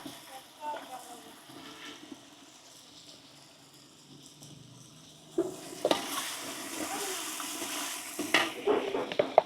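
A pot of pachon curry with ginger cooks outdoors in a hill region. It starts as a faint simmer, and midway a louder sizzle breaks in with scraping stirs, while soft voices murmur in the background.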